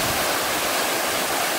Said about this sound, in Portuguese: Essa é a primeira queda da Cachoeira da Chinela